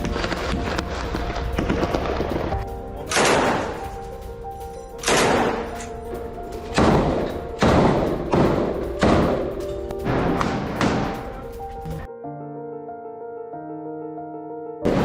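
Gunfire from IDF troops firing on Hamas positions in Gaza comes as a series of heavy, booming shots at irregular intervals over a continuous noisy background, followed by a quieter tonal passage.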